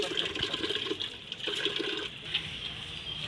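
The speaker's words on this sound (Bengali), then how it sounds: "এখন জল নিচ্ছি।" Water runs and splashes while a bucket is filled, a fairly quiet, uneven gurgling stream with a few surges and no talking.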